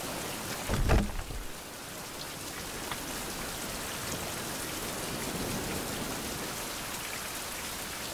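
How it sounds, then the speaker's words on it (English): Rain falling in the survival video game Survival: Fountain of Youth, a steady dense patter of rain on surfaces that continues evenly throughout after a brief louder thump near the start, no talking. "Nice drop of rain, I'll say it's a nice drop of rain."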